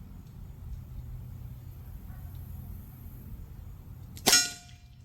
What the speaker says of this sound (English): Let's try this homemade pepper. Firing.